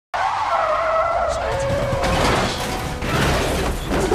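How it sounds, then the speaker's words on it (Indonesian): Tires squeal in a long skid during an action-film car chase involving SWAT cars, a loud sustained screech that wavers in pitch over engine roar, with a faint crunching impact toward the end. "Cortez yang sedang dalam pelariannya, dia berhasil menumbangkan dua mobil tim SWAT dengan mudah"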